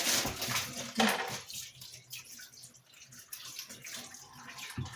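Cold water runs from a tap into a basin, a soft hissing splash that is louder in the first second and then settles into a quieter trickle with light knocks.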